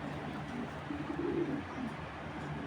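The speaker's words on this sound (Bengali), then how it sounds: "বিআরপিএল এর ক্লাবের কবুতর, এই দুইটা কবুতর" Club-raced racing pigeons coo softly at close range, a few low murmuring calls rising over a constant background hiss.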